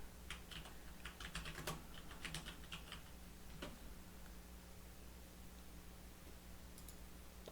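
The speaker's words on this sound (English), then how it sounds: "So I'm just going to type in economic growth." Search terms typed on a computer keyboard: quick, light key clicks in bursts for a few seconds, then fading into a quiet room hum.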